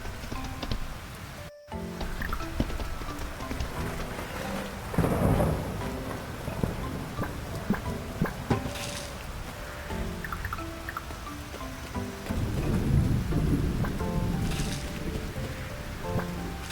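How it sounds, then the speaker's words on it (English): Steady rain falls with dripping and scattered thunder-like rumbles throughout a summer scene in the farming video game Fields of Mistria, with no talking. "It feels like it's raining more in summer than it was in spring."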